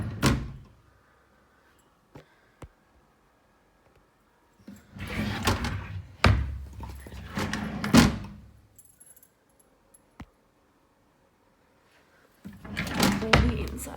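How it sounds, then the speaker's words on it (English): Drawers in a residential unit slide open and shut in several bursts of scraping and rattling, each ending in a soft thunk, separated by quiet gaps and a few sharp clicks. "The drawers open and close correctly."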